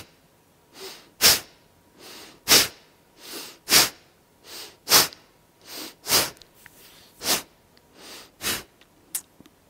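Kapalabhati yoga breathing: a steady series of about fourteen sharp, forceful nasal exhalations, close and loud, alternating with softer breaths at a slow, even rhythm.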